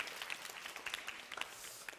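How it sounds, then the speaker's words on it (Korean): A church youth group gives a round of applause, heard faint and somewhat distant as a dense crackle of many hands clapping at once, with scattered louder individual claps. "다시 한번 우리 수고하는데 우리 박수 한번"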